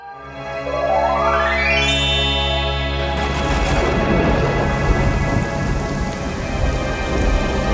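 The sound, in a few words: magical rain and thunder in a cartoon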